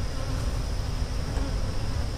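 Honeybees buzz steadily around an open hive during a hive-split inspection, a dense, close, continuous drone with no talking.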